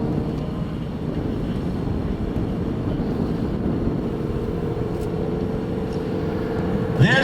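A propeller aerobatic airplane at an airshow drones steadily, a low rumbling engine sound holding at a distance throughout, with a short sharper burst near the end.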